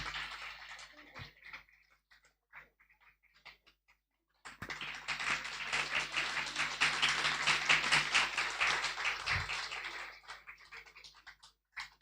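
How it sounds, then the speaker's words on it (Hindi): An audience applauding at a Mother's Day celebration in a hall, dense clapping that starts abruptly after scattered claps, holds steady for about six seconds, then stops. "एक बार सभी जोर से ताली बजाएंगे।"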